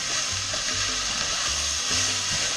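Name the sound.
ground beef browning in a pan for chili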